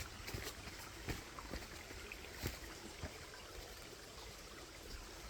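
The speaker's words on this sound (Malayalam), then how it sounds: "ഈ പുഴയാണ്" A forest river stream flowing steadily, a soft broadband wash of running water heard alone at low level, with a few faint clicks and knocks scattered through it.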